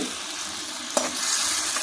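Spice masala for mutton curry fries hard in a pan, a loud, even, close sizzle with one brief clink of stirring partway through.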